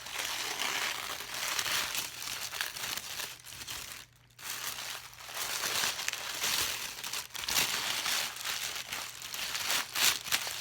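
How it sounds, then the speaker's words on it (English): Paper crinkling and rustling during an ASMR unboxing of spinning fiber and roving, close and continuous with dense crackly bursts and a brief pause midway, no talking. "You like the crinkly sounds from the paper?"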